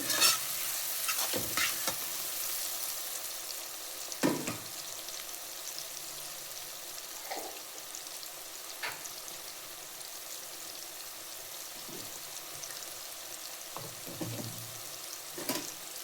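Turmeric being stirred into rice masala upma frying in a pan, a soft constant sizzle with scattered scraping clicks of the spoon, fairly quiet and close.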